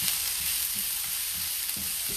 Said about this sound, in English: hearing the volume of the sizzle